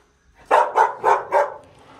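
Dogs at a rural property in Estiva, Minas Gerais, give four quick, loud barks in a close, evenly spaced burst, with quiet before and after.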